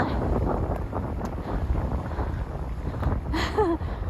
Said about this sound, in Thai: ลมแรงแล้ว